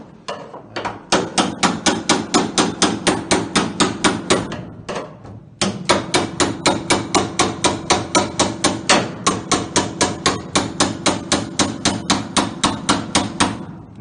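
Hammer striking a splitting chisel to separate spot-welded car body panels, loud rapid metallic blows in a steady rhythm, a brief pause, then another long fast run of strikes.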